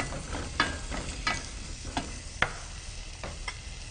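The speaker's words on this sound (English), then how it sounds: "then I'm gonna start sauteing my onions" Red onions sautéing in a hot pan for butternut squash soup, with a soft continuous sizzle under periodic scraping stirs and light utensil taps.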